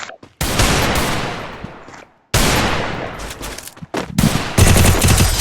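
Rapid bursts of gunfire in a shooting video game, loud and close, coming in several long volleys separated by brief pauses, with a denser, harsher stretch of fire at the end.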